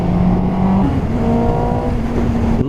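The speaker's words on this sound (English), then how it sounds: "Lovely throaty sound to that engine." A 2017 Suzuki GSX-S750 motorcycle engine revving close up, a throaty steady drone that steps up in pitch partway through and holds, with no talking.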